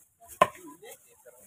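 A single sharp chop of a blade cutting through a rare red-gold fish on a board, followed by faint handling sounds and quiet background voices.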